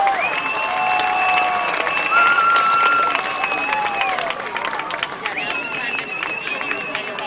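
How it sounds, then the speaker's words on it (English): Applause for coach Brandon Bird, honored for the girls golf team's performance at a school employee recognition event: sustained crowd clapping with cheers and whistles running throughout, fading slightly toward the end. "Let's hear a big hand for Mr. Brandon Bird."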